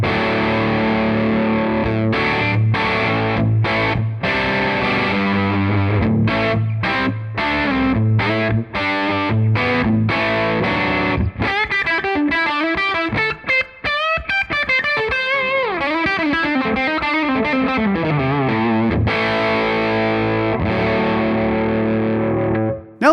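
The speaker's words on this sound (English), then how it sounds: "And finally, the jump channel on its highest level of gain as the DI capture." Electric guitar through a Brit 45 amp model's jump channel at maximum gain, captured in Tonex, plays a continuous heavily distorted passage of chugging chords and lead lines, loud and upfront with no talking.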